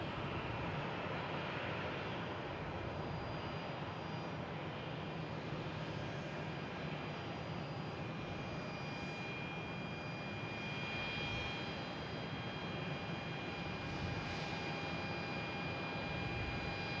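An airliner at Boston Logan Airport, Flight 920, gives off a steady, distant jet engine roar that holds unbroken throughout.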